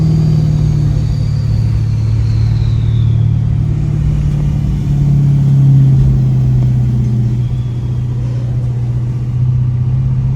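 2018 Ford F350 diesel with compound turbos under load, a thin turbo whistle sliding over a loud, steady low engine drone from close by.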